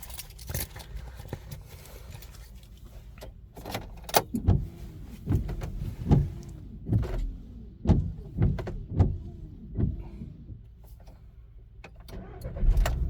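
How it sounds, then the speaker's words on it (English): A 2013 VW Caddy engine being started with its key: a string of close clicks and short mechanical bursts of cranking, then low engine rumble underneath, all fairly quiet. "Started the engine fine."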